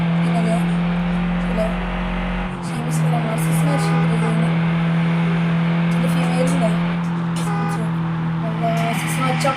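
A video game car engine, apparently a Volkswagen Polo, drones loudly with a steady humming pitch that shifts after a gear change, alongside some talking.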